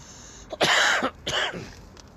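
A man clears his throat and coughs in two harsh bursts, close and fairly loud, outdoors among pigeon fanciers.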